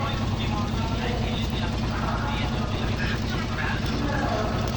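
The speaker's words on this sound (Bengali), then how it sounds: "তো এদিকে দেখা যায় যে ট্রলার কত দ্রুত চলতেছে" A trawler boat's engine runs on the river at Kamrangirchar with a steady low, throbbing drone, while indistinct voices carry over it.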